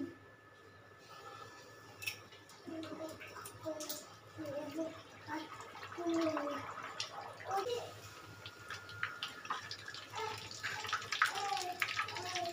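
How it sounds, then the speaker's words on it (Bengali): Potato-stuffed puris deep-fry in hot oil, giving a close, steady bubbling sizzle with scattered crackles and pops that rise and fall as the dough puffs. "দেখো এইভাবে করে আলু পুরিগুলো ভেজে নিচ্ছি।"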